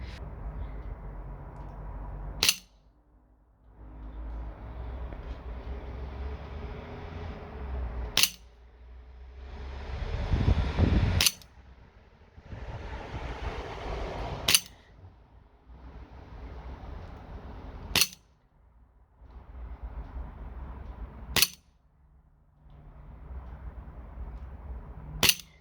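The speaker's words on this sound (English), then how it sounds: "now let's try out the CO2 Colt 1911" A CO2-powered Colt 1911 airsoft pistol fires seven sharp, loud single cracks spaced a few seconds apart, with quieter hissing and handling noise in the gaps between shots.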